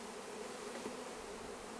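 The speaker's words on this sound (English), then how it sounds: "You're gonna have a lot of bees around here." A continuous close-up hum of many honey bees around an open hive on a ranch, steady and unbroken, with one brief louder pass of a nearby bee partway through.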